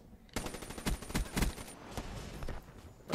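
Rapid automatic fire from the HVK rifle in Black Ops 3 on the Infection map, a quick rattling string of close shots that stops after a couple of seconds, then a few scattered single shots.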